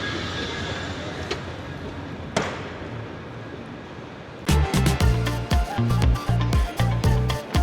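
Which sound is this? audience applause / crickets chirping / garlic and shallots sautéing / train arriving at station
train arriving at station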